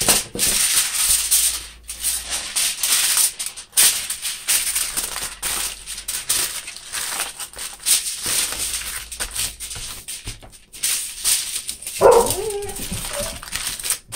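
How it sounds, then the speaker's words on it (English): Crinkling and rubbing of heavy-duty Reynolds aluminum foil fill most of the clip, then a single dog bark sounds once near the end, not far away. "And that is my dog."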